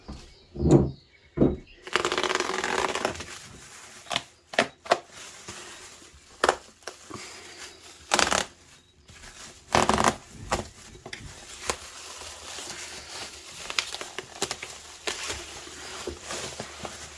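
Parcel being unpacked from layers of bubble wrap and boxes: crackling plastic, rustling, and sharp pops and crinkles in irregular bursts, close by, with quieter handling noise between them.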